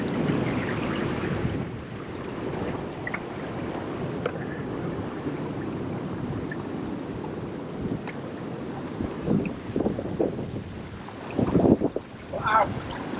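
Strong wind blows steadily across a sandy beach on the Isle of Harris and Lewis, a constant broadband roar with gusty buffeting against the microphone and some louder bursts near the end.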